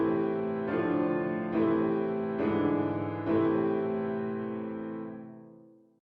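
A short musical passage of four struck, keyboard-like chords or notes, each entering roughly a second apart over a ringing sustain, then fading out smoothly at the end, with no voices.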